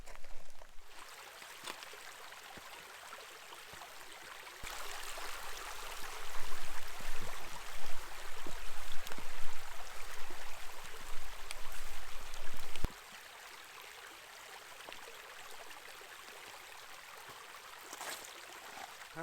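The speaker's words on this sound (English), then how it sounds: "this creek sure has grown from the first time we crossed it." Piney Creek in Missouri's Piney Creek Wilderness rushes steadily as broadband water noise, swelling louder and closer for several seconds mid-way during a crossing, then easing back to a quieter, continuous flow.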